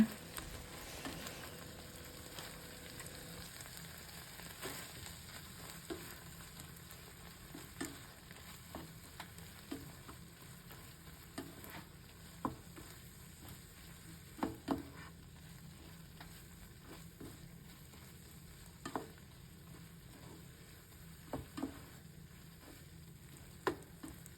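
Canned fish and egg sizzle steadily in a pan while being stir-fried, with soft frying hiss throughout and frequent sharp clicks and taps of a utensil against the pan.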